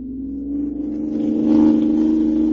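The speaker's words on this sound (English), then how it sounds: "This car's got an engine in it, all right." A car engine drones loudly and rises in pitch as it accelerates, a rumbling, continuous roar close by.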